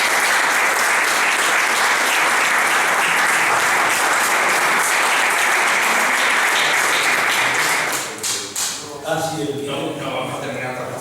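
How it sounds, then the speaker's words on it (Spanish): An audience applauds after a book presentation, loud dense clapping running steadily for about eight seconds before fading, then a few voices talk over the last scattered claps. "un aplauso para ustedes"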